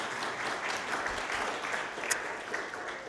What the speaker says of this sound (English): a round of applause for Glenn and Thomas, if you like